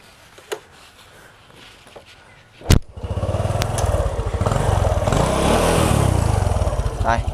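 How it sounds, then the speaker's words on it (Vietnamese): After a few clicks and a clunk, a 1999 Wave Thai 110 motorcycle with a 1985 exhaust and its tank removed starts and settles into a loud, steady rumbling exhaust putter nearby. "để nổ máy cho anh em nghe tiếng bô ha"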